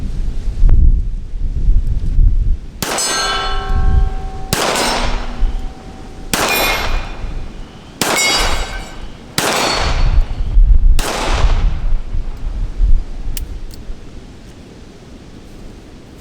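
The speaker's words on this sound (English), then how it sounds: "let's shoot a little bit more" Six sharp, loud revolver shots from a Colt Cobra ring out one after another at roughly one-and-a-half-second intervals outdoors, each a hard crack with a ringing tail.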